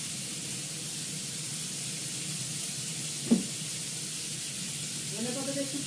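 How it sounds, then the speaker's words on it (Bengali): Pumpkin pieces fry in a pan with black cumin seeds and turmeric, giving a soft, steady sizzle with a single knock partway through. "পরে দেবো, একটু ভাজা ভাজা করে নিই।"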